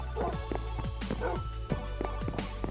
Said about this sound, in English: They got all their dogs over here.